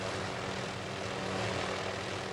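Aircraft engine over Admiralty Island near Juneau, Alaska, heard as a steady, loud, broadband drone with a low rotor-like hum that holds through the whole short span with no voices.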